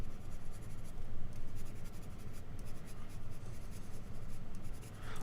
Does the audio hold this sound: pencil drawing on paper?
yes